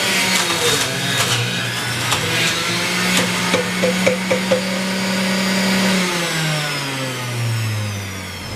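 A Vitamix blender chops celery for juice at full power, a loud, steady motor roar close by with a churning rattle, its pitch shifting and sliding downward toward the end.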